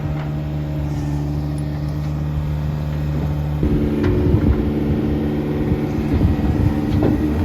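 A 1967 Ford dump truck idles loudly up close with a steady low drone, then the engine note rises and roughens as the dump bed lifts, with clanks and rattles and no speech.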